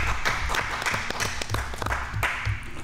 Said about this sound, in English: let's give Mr. Tony Dowell a round of applause